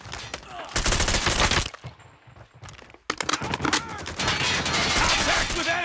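Dense bursts of automatic gunfire in Call of Duty Mobile ranked team fight, loud and close, with rapid fusillades broken by a brief lull before shooting resumes; game voice callouts mixed in.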